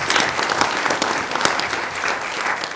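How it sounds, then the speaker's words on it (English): An audience claps in a room for the Deliver for Good partners at a conference on investing in girls and women, steady applause from many hands throughout. "So a round of applause for the partners for Deliver for Good."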